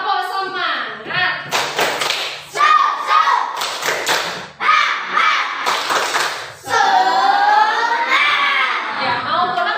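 Classroom children chant and clap together in a rhythmic spirit-clap routine, with bursts of sharp, loud claps in patterned groups alternating with shouted sing-song chanting from the class.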